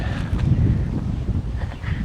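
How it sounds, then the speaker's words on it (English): Steady wind roaring and buffeting against the microphone on the Gunbarrel Highway in outback Australia, a continuous low rumble with no voices. "It's a bit windy"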